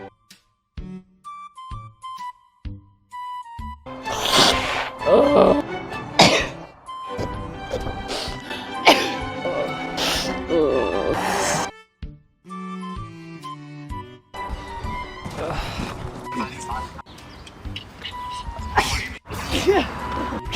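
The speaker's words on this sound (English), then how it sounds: "I need to sneeze, so I'm gonna sneeze on command" Sneezes and coughs from someone with clogged allergies burst out repeatedly, loud and close, amid throat clearing and short gasps in a studio setting.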